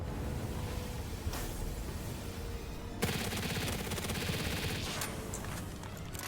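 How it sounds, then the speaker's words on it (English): Rapid gunfire in Palworld shoots a flying player down, dense bursts of sustained automatic shots that sound fairly close and loud, with a sharper volley kicking in midway and continuing steadily. "You shot me out of the sky!"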